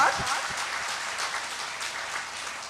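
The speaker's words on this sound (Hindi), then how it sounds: "हम सब बता दें हमें कैसा लगा, जोरदार तालियों के साथ।" An audience at a poetry recitation event in a cultural hall in Bhiwani gives vigorous applause, continuous massed clapping heard close and even for the whole stretch.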